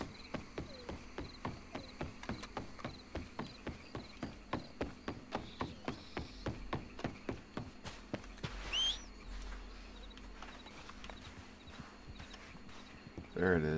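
Horse hooves clip-clop at a steady walking pace in the Red Dead Redemption 2 Online western game, a long run of regular, fairly close footfalls that stops partway, followed by quieter ambient sound and a brief bird-like call.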